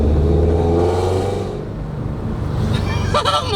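Toyota GR86 with a full aftermarket exhaust system driving past, a loud steady engine drone and rumble that eases off, then returns with a rising whir toward the end.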